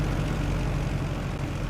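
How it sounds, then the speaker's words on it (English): Steady low engine drone of a slow tractor in a farming game, a continuous, even idle rumble with no talk over it. "It's not the fastest tractor, but I don't really need it to be."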